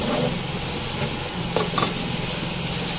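Spices and green chillies roast in a pan for chicken milk karahi, a steady low sizzle with a few faint stirring scrapes near the middle.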